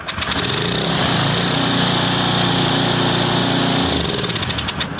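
A small engine fitted with a HIPA prototype carburetor starts up and runs steadily at a loud, even pitch for about four seconds, then drops off toward the end.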